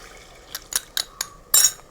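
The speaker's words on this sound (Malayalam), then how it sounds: "സാധാ വെള്ളത്തിൽ കലക്കിയിട്ട്, പച്ചവെള്ളത്തിൽ കലക്കിയിട്ട് ഇതിലേക്ക് ഒഴിക്കുന്നുണ്ട്." Cornflour slurry, two spoons of cornflour stirred into plain water, tipped into a hot pan while making American chopsuey. Short splashing bursts and a final longer pour, close and fairly quiet, with no voices.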